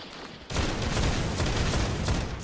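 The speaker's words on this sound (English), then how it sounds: "I'm hitting it with my scout rifle." Rapid, dense gunfire from a scout rifle in the video game Destiny bursts in after a brief lull and keeps going, loud and steady, with no talking.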